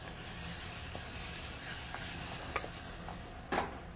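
Capers, onions and brown sugar fry in a pan with a soft, steady sizzle, broken by a few faint clicks and a spoon scrape as they are stirred, quiet and close with no talking.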